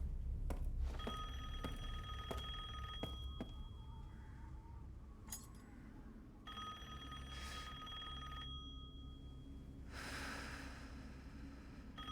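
An old-style telephone rings in the Resident Evil Village horror game, a repeating bell tone in spaced bursts over low ambient rumble, with heavy breathing and faint noises in between.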